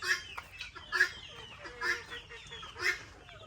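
Chickens on a farm clucking and calling in short bursts, several distinct squawks over about three seconds at moderate distance, with a low background murmur.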